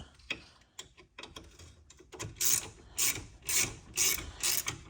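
A hand ratchet clicks in short bursts while working loose a brake caliper slider pin on a Volvo S40 T5. The clicks are faint at first, then turn louder and rhythmic near the end, with no talking.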